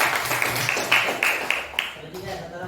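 A group in an Indonesian school coaching session claps in a quick, rhythmic pattern of evenly spaced claps, moderately faint, with a voice speaking underneath.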